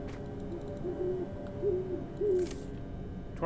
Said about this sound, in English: There's too many owls out here.